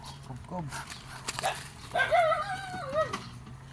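A dog in a rural provincial yard gives a couple of short barks, then a drawn-out whining whimper, close by, with people talking around it.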